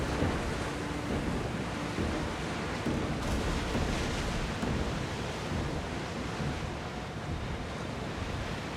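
Ship sailing across sea waves in the Assassin's Creed Odyssey video game, a steady broadband rush of surf and wind that continues unbroken throughout without speech.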